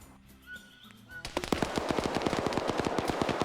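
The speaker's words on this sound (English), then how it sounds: "a 250-round machine gun's not going to really care" Sustained machine gun fire in an Arma PvP battle, police versus criminals in Sri Lanka, comes as a rapid, loud burst of evenly spaced shots that keeps going after a quieter start with faint game sounds.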